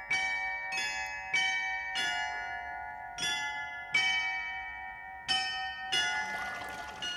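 Carillon bells ring above the Drosselgasse at Rüdesheim castle, seven or so bright struck chimes about a second apart, each leaving a long overlapping ring, clear and moderately loud with no talk.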